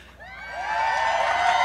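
A crowd at a Bassmaster fishing tournament weigh-in at Lake Fork cheers and whoops, the noise swelling from quiet to a loud sustained roar over a couple of seconds.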